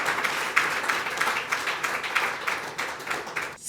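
At a foundation launch event, an audience claps for an honoured guest, with rhythmic, pulsing bursts of applause at moderate loudness and no voices over it.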